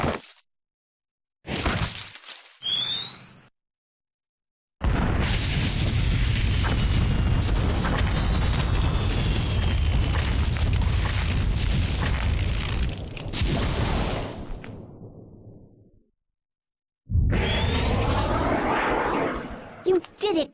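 A booming explosion blast from the video game Tak and the Power of Juju, a loud broadband roar sustained for about ten seconds after short bursts, then fading before another rumbling burst.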